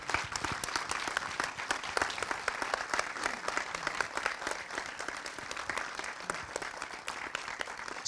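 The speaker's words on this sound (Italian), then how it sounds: "li accogliamo con un applauso un po' più vigoroso del solito" Event audience gives the organizers a vigorous round of applause, a dense, continuous crackle of many hands clapping, sustained and fairly close, with no voices over it.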